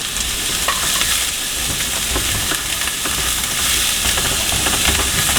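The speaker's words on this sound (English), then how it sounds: "You wanna hear that sizzle." Steady, loud sizzling and crackling of butter frying in a hot pan, heard up close and continuing without a break.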